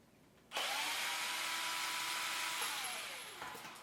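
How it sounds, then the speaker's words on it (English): Power drill boring through a wooden dowel for a tall DIY wedding centerpiece, a steady whining motor that starts abruptly, holds loud and close for about three seconds, then winds down. "we're going to go ahead and drill it through"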